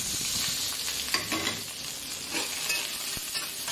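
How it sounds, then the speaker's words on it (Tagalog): Garlic and onion sauté in a pan, a steady close sizzle broken by a few stirring scrapes and light utensil taps, with no talking. "Lagay na natin bawang sibuyas."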